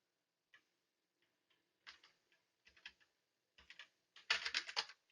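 Computer keyboard typing during code work, in scattered bursts of clicky keystrokes that build to a dense, louder flurry near the end, close and alone with no voices.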